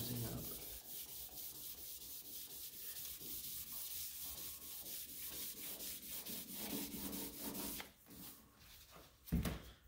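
Drips on an old Steinway piano case are sanded with a drop of detergent, giving quick, even back-and-forth rubbing strokes close up, with a few louder scuffs near the end.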